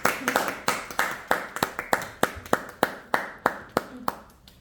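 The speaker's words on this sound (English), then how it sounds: "इनके लिए clap कर दीजिए मिस मरियम के लिए please" Students in an IELTS class clap for a classmate, a small group's sharp, distinct handclaps coming in an uneven, loosely rhythmic run close by before thinning out at the end.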